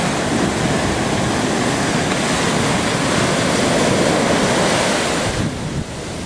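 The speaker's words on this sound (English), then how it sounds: "Take a look at the waves." Indian Ocean surf breaking and washing ashore in a continuous loud roar, mixed with wind buffeting the microphone, with no voices over it.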